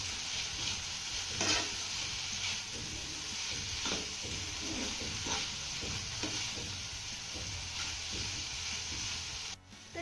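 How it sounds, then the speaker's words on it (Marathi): Torn chapati pieces stir-fried with vegetables in a pan, a soft continuous sizzle broken by repeated scraping and stirring strokes, close and fairly quiet with no talking. "आता ह्या चपात्या आपल्याला भाज्यांसोबत 1 ते 2 मिनिटं चांगल्या परतून घ्यायच्या."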